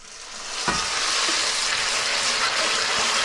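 Pasta and zucchini cooking in a pan with a splash of pasta water, a loud, steady close sizzle and bubbling after one brief knock of the pan.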